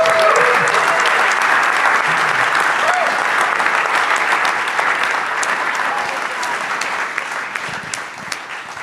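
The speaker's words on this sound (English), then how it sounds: "please give them a huge round of applause" Sustained audience applause fills a hall at a live music-director competition event, dense and loud, then slowly tapering off.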